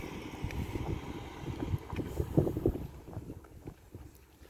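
Wind gusts over an open outdoor pasture by a pond where a herd of cattle is coming down to drink, a low rumbling buffet of the microphone that rises and falls unevenly, with faint thumps mixed in.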